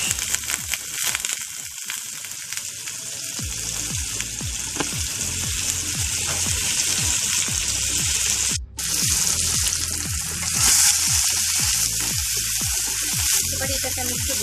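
Potatoes fry in a pan for ghugni with a loud, continuous sizzle close to the listener, punctuated by repeated rhythmic scraping strokes of stirring and a brief dropout midway.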